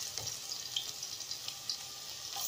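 Garlic sautéing in cooking oil in a pot, a steady close hiss of frying with faint crackles and pops running throughout, no voices.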